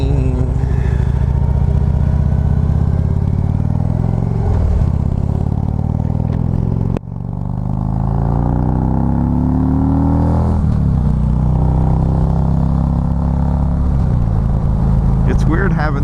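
A Harley-Davidson Street Glide engine revs up and down on a ride, loud and close, with wind noise and someone speaking over it.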